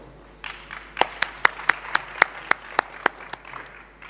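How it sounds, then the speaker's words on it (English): Applause from an audience at a university Cuban Heritage Day celebration, building after a brief pause into steady clapping with sharp individual claps standing out, moderately loud and free of talk. "Please give her a round of applause."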